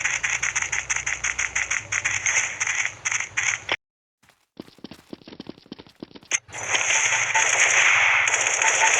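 Rapid M16 rifle fire in a video game, a loud fast burst of shots, a brief silence, then scattered quieter shots before a dense, sustained roar of gunfire closes out.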